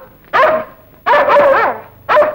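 A dog barks three times in a Tamil comedy film scene: loud, close, yelping barks, the middle one a quick double, separated by short pauses.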